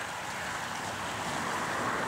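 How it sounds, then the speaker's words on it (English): Steady wash of small waves lapping against the Lake Superior shoreline, continuous and fairly soft, with a faint breezy hiss in the background. "you can also hear the water lapping at the shore"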